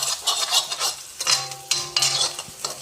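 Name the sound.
sautéing onion, ginger and garlic paste in a pan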